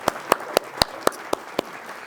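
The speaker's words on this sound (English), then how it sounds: "Round of applause for that." A handful of spaced, distinct claps from a studio cooking show audience, about eight sharp hand claps in a slow, even rhythm, fairly close and clear over a quiet background.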